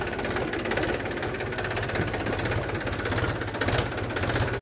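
A tractor engine fitted with oversized tyres runs nearby with a continuous, throbbing diesel knock at a steady pace.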